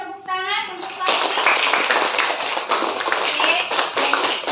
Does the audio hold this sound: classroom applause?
yes